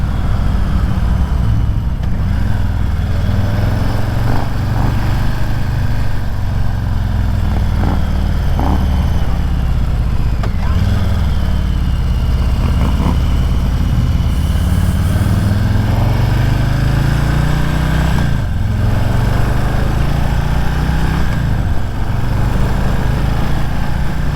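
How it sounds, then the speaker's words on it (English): Harley-Davidson Street Bob 114 motorcycle engine while riding: a loud, steady low V-twin rumble throughout, with pitch rising and falling as the throttle changes and gears shift, plus constant wind noise. "Bike sounds good though."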